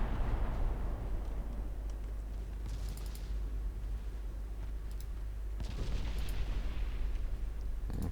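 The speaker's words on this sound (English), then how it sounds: "Secondaries are opening up on the light cruiser." Naval secondary guns fire at a light cruiser in the Ultimate Admiral Dreadnoughts warship game, heard as a continuous rumbling battle din with a few sharper distant bursts layered over it.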